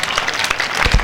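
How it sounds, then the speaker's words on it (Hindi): Audience applause at a Hindi kavi sammelan poetry recital, a short, steady patter of clapping that swells slightly near the end, with no speech over it. "तालियां कमजोर है"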